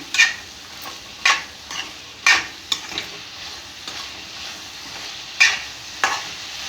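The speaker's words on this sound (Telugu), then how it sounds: "అంతా కలుపుదాము." Boiled chickpeas stirred into chole masala in a pan, with a soft sizzle underneath and periodic scraping strokes of a spoon against the pan, close and unhurried.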